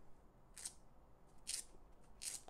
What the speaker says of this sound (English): Show you the Velcro.